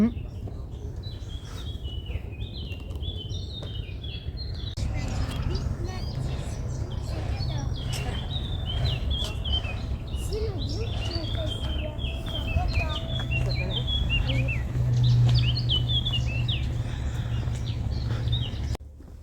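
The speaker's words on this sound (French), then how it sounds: "On entend les oiseaux." Birds chirp and trill steadily in the background on Île Sainte-Marguerite, France, in hot weather, over a low rumbling outdoor hum, with faint clopping and occasional murmuring voices.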